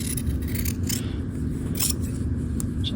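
Scissors snip through fabric around a paper pattern piece for a half-scale jacket, a few short crisp cuts over a low steady room hum.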